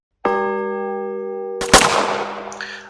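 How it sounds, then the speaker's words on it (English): A clock tower bell sounds a single long, resonant bong that rings out steadily, then a sharp loud crack cuts across it, trailing into a noisy decay. "As the clock tower sounds its ominous bong"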